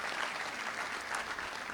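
A university debate audience applauding steadily in a dense, even wash of clapping that fills the whole moment with no voices on top.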